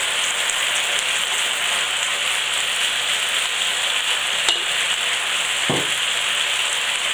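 Onions and chicken strips fry in a pan for a chicken coconut curry, giving a continuous even sizzle with a couple of brief utensil knocks partway through.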